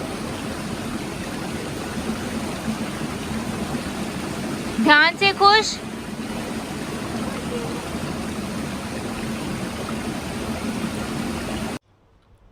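Water rushes over rocks at a mountain waterfall near Rishikesh as a steady, close, hissing roar that runs through the whole stretch. Someone speaks briefly partway through.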